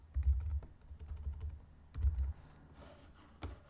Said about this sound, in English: And type in services.